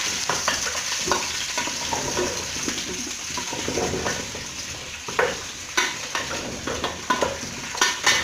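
Mukimo is turned over in a hot frying pan, with steady sizzling throughout and a run of close scraping and clattering of a utensil against the pan in the second half.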